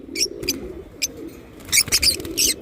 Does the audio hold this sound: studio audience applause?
no